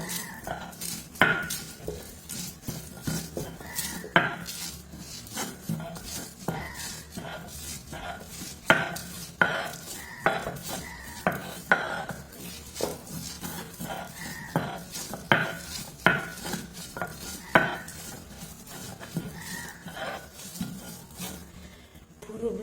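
Washed dried bamboo-leaf fish is mashed into chili paste with coriander for a Bengali bhorta, repeated irregular knocks, scrapes and clinks of a utensil pounding and grinding against a bowl, close and unaccompanied by speech.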